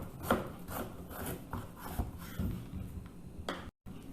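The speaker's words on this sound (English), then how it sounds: "Slice it into half at first" A knife cuts a peeled raw papaya in half on a board, giving a few soft, close scraping and thudding strokes.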